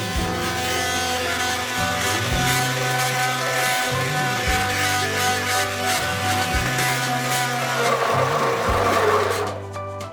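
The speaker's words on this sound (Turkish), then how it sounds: "Şimdi varsa bir mikseriniz yoksa bir el blender yardımıyla bunu iyice bir çekin." A steady motorized whir of a hand blender mixing pudding runs throughout, pulsing slightly as it mixes, loud and close, cutting off near the end.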